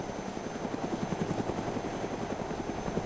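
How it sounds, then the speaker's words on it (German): Helicopter in the video game DayZ on Lingor Island, heard as a continuous rotor thump with a fast, even chopping pulse, steady and fairly quiet throughout. "Mach mal kurz den Hubschrauber leise."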